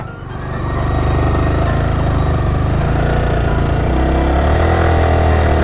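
Car engine running steadily and loudly throughout while the driver makes a U-turn on the way home, with a low constant hum and a slight shift in pitch near the end; no talking.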